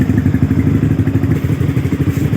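A Yamaha R15 (2017) fitted with a 14-inch Akrapovic exhaust runs close by with a steady, throaty low-pitched rumble and a rhythmic pulsing, loud and continuous with no talking over it.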